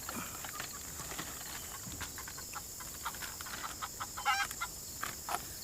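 Chickens clucking and scratching about as kitchen scraps are tossed to them, faint scattered calls and rustling over a steady background hiss, with a few brighter squawks near the end.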